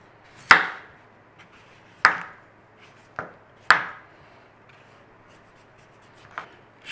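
Root vegetables such as onion, potato and swede are peeled for Welsh oggies in a quiet kitchen. About five crisp, separate scraping strokes come at irregular intervals, each fading quickly.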